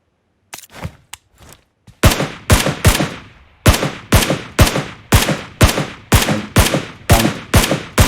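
Rapid bursts of gunfire in the mobile battle-royale game PUBG Mobile: a few sparse shots, then a steady run of loud, evenly spaced sharp cracks with short echoing tails, close and dominant, no talking.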